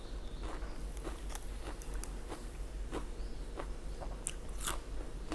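Crisp food is bitten and chewed close to the mic, giving sharp crunches at an irregular pace over a low steady background hum.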